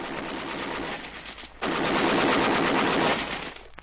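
Machine gun fire from a radio drama: a sustained rapid burst, a brief gap, then a louder, longer burst, both close and dry with no talk over them.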